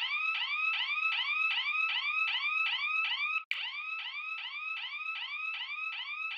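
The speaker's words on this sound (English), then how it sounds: "You saw that how an alarm was triggered." Geofence alarm set off as a car crosses a virtual fence on a map, a steady repeating electronic warble cycling rapidly like a siren, loud and continuous with a brief click midway.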